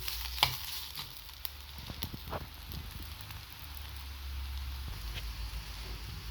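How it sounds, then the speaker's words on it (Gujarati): Onion, ginger, garlic, cloves and cinnamon fry in a pan with a steady soft sizzle, a few stirring scrapes and clinks near the start, continuous and moderately close with no talking. "તો લગભગ આપણે હવે 2 થી 3 મિનિટ માટે આ બધું જ મિશ્રણ ફરી એકવાર શેકી લઈએ."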